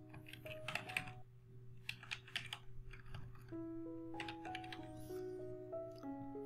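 Fingers tap out code on a computer keyboard in quick, light, uneven bursts of clicks. The typing is close and quiet, and steady electronic tones and beeps hum beneath it.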